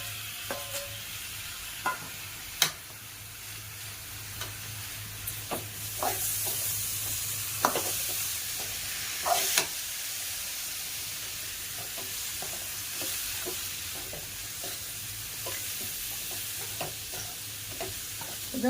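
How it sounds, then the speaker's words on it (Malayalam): Jackfruit seeds and vegetables fry in a pan with a steady, hissing sizzle, broken by scattered clicks and scrapes as a spoon stirs them, with no talking. "എന്നിട്ടൊന്ന് ഇളക്കാം. കൂട്ടത്തിൽ തന്നെ നമ്മൾ വേവിച്ച് വെച്ചിരുന്ന കൂഞ്ഞും ചക്കക്കുരുവും കൂടെ"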